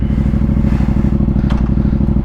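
A Yamaha FZ-07 motorcycle idles close by, a loud, steady, even engine pulse with rhythmic low thumping and no change in pace throughout.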